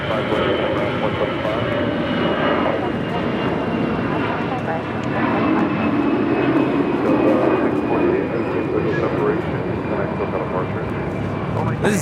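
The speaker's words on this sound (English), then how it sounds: "This is Delta A319 is taking off to Dallas Love Field, flight 648" A Delta Airbus A319 takes off from LAX bound for Dallas Love Field as flight 648, its engines making a steady, loud broadband roar that holds for the whole stretch, with a faint rising whine and a voice talking over it.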